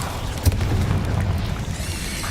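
A fire spell is cast in Hogwarts Legacy, opening with a single low boom and followed by a rough, roaring rush of flame that fades into a steady rumble.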